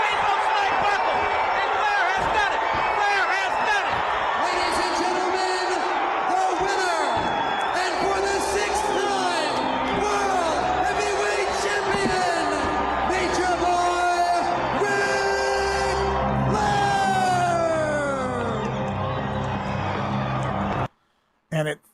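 Wrestling arena crowd roaring and cheering after Ric Flair pins Ricky Steamboat at NWA WrestleWar '89, a loud, sustained wall of yells and whoops that runs without a break and then cuts off abruptly near the end.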